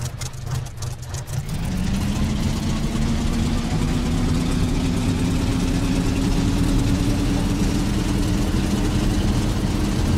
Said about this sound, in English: Oh, it's letting me run the engine now.